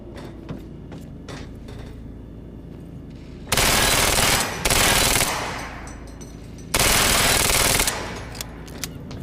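Two long bursts of rapid automatic gunfire from the video game Quantum Break, loud and dense, each lasting about a second or more with a short gap inside the first, separated by quieter game ambience and faint clicks.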